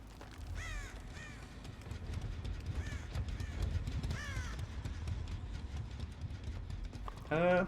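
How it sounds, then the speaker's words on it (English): Crows cawing in the Dead by Daylight video game, several rough caws repeating at intervals over a low rumbling game ambience, with a louder burst at the end. "I'm hearing those crows, so they might be around somewhere."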